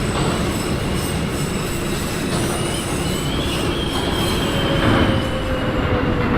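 An R160A Alstom subway train on the NYC W line, simulated in OpenBVE, rolls along with a loud continuous rumble while faint wheel squeal rises and fades over the rails.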